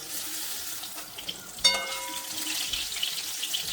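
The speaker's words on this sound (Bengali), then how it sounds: "বেগুন তোলার সময় সাইডে এভাবে একটু হালকা চাপ দিয়ে তুলব, তাহলে এক্সট্রা যে তেলটা রয়েছে সেটা কড়াতেই থেকে যাবে।" Fried brinjal pieces lifted from a kadai of hot oil, pressed lightly against the side: a steady soft sizzle runs throughout, with a brief clatter of the utensil midway against the pan.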